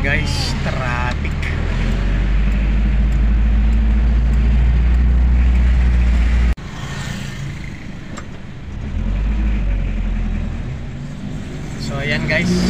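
Road traffic heard from inside a car on a Sunday drive toward Manaoag Church, a steady loud engine and road rumble throughout with a brief drop midway, while people talk in the cabin.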